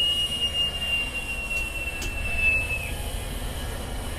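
KA Pangandaran train pulling into Tasikmalaya station in drizzling rain, a steady low rumble of rolling cars under a thin, sustained high wheel squeal that wavers and fades.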